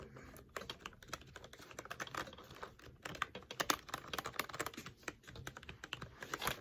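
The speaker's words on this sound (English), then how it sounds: "The clicking noise is pretty quiet, so let's try it out." Rapid, uneven key clicks from typing on a one-handed Red Thunder half mechanical keyboard, a quiet, close, continuous clatter of individual keystrokes with no talk over it.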